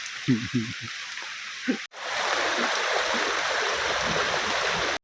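Rainwater runs along a forest path during rain, a steady close rushing and trickling that starts suddenly after a brief spoken phrase and continues evenly to the end.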